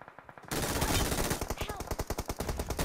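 Automatic gunfire in the PUBG Mobile battle royale game during a final-zone house search: a sudden loud sustained burst, then a rapid string of distinct shots, close and dominant.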